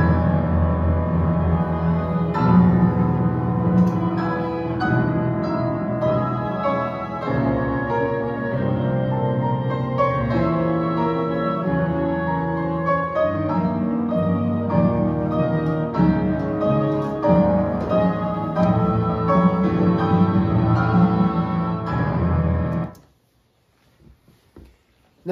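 Orchestral theme by composer Richard Sortomme performed at its premiere, a broad, rhythmically driven melody with full ensemble texture playing loudly for over twenty seconds before cutting off abruptly into near silence.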